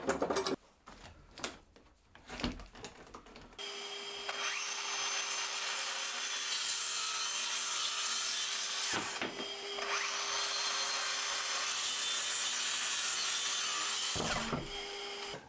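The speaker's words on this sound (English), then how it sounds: "I'm going to get it cut to its final size using the track saw" A track saw rips through a glued wooden cabinet top for an under-sink cabinet, a long steady cutting whine after a few brief knocks, pausing briefly near nine seconds before resuming, then stopping near the end.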